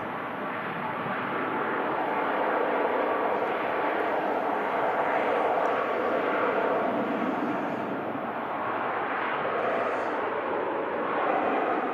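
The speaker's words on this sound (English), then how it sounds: "the Cathay Pacific A350-900 series. This powerful climb out there, then Rolls-Royce Trent XWB engines providing loads of" A Cathay Pacific A350-900 climbs out of Manchester Airport on its Rolls-Royce Trent XWB engines, giving a steady, loud jet roar that holds throughout with no talk.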